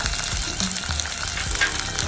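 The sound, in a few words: frying whole spices: pepper, ginger, cinnamon, cloves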